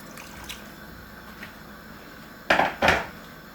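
Boiled water poured onto rice in a pot for vegetable pulao, heard as two short, loud splashing pours near the end after faint clinks.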